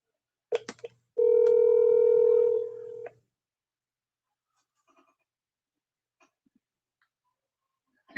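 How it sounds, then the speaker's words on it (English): A phone being dialed to place a call, a couple of quick tones followed by a steady two-second tone that cuts off, then silence. "Let me make this phone call to the Lou."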